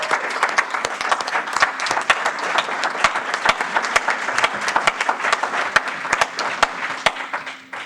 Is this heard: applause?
yes